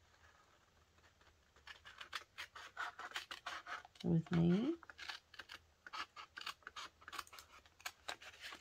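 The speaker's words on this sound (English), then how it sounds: "We're going to cut on these edges here. Try and get my scissors to cooperate" Scissors snipping along the edges of a paper envelope in a series of crisp, close cuts and rustles, with someone speaking briefly at the start.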